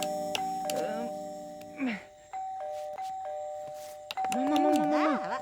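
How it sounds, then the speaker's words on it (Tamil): An electronic doorbell chimes in repeated tones while people talk over and around it. "காலிங் பெல் அடிக்கிற மாதிரி இருந்தா"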